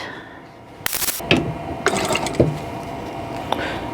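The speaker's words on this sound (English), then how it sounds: "go ahead and sew these together" A sewing machine runs in short, uneven bursts with mechanical clatter while quilt block pieces are sewn together right over left, fairly close and loud, with no talking.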